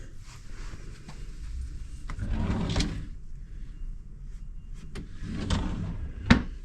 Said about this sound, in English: which underneath you have pull-out drawers.